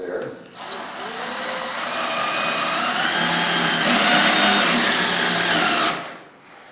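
A power drill drives screws to fasten a pocket door bracket, a whirring motor rising and holding for several seconds before cutting off, close and fairly loud.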